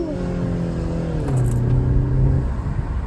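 A BMW 330i engine revving while left in first gear on a late-night drive in Germany, a steady tonal drone whose pitch shifts and climbs midway before falling back, close and loud throughout.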